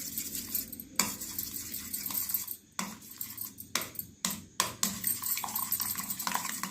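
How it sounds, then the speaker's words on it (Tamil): Spiced egg mixture for a masala omelette being mixed in a bowl, giving close, irregular clinks and scrapes of a spoon against the dish with brief pauses, and no voices. "இப்போ நம்ம இது எல்லாத்தையும் போட்டு நல்லா மிக்ஸ் பண்ணிக்கலாம்."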